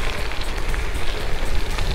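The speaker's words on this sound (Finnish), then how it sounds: "Nyt alkoi sataa ihan kunnolla." Heavy rain pours down during a gravel cycling ride near Lahti, Finland, as a dense, continuous, loud hiss with no voices.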